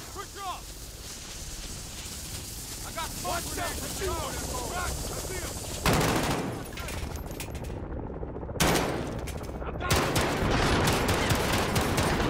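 Gunfire in the Call of Duty: Modern Warfare video game during a house-clearing mission, with a steady din of in-game noise and several loud sharp bursts of shots toward the end.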